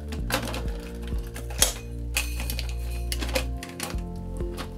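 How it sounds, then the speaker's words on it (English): Clattering and clicking of hands working inside an opened U-matic VTR to pull out a stuck 3/4 inch tape, with small metallic clinks and taps over a steady low hum, close and moderately loud. "I'm going to have to take the lid off the VTR and manually extricate the tape."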